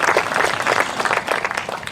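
A crowd applauding at an outdoor suicide prevention walk in Newport, with dense, sustained clapping from many hands close by.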